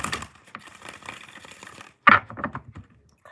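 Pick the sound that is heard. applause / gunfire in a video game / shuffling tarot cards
shuffling tarot cards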